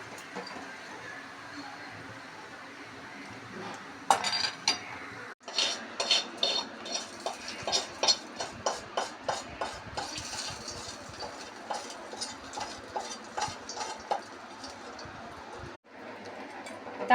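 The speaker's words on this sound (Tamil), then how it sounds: "ஒரு கடாய் வச்சு நெய் வச்சுருக்கேன், ஒரு ஸ்பூன். கொஞ்சம் கடுகு, ஜீரகம்." Mustard seeds and cumin tempering in hot ghee in a kadai, with rapid crackling pops and sputtering, plus spoon and metal pan clatter, fairly close.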